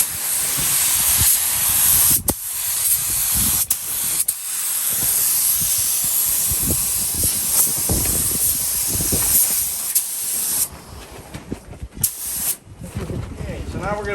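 A second coat of spray paint goes onto an Artec NightHawk rear bumper for a Jeep JL: a close, steady hiss runs almost unbroken for about ten seconds, with brief pauses and quieter bursts toward the end.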